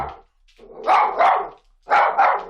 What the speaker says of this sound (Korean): 그렇게 짖어도 소용이 없어. 더 짖을 거라고.